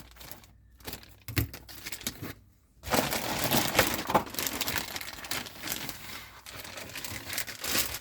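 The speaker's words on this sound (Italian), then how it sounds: "Stai fermo lì Michelangelo, quando uso le forbici" Scissors cut through plastic packaging while a RoboCop model kit is unboxed, giving sparse crunches at first and then a dense run of crinkling, snipping and crushing sounds up close.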